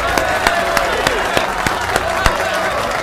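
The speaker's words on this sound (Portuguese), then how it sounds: "Aplausos para o Uzumaki!" Scattered hand claps sound out at a steady, fairly even pace among Rainbow Six players, crisp and close against a constant background hum of game noise.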